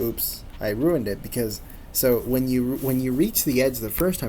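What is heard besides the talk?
No everyday noise stands out behind the speech.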